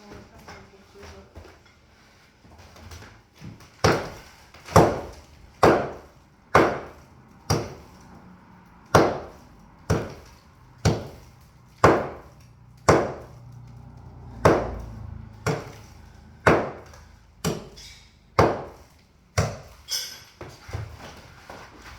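A pry bar strikes repeatedly into a fireplace wall, about twenty sharp, loud impacts landing in a steady rhythm roughly one per second, each a crisp crack with a short decay, in an indoor room.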